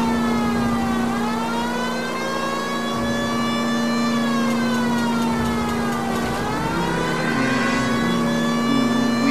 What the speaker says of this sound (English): Forgot to turn on the siren.